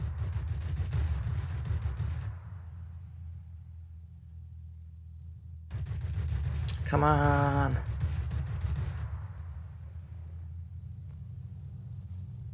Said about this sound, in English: before we get rockets, I can soft those targets with cannons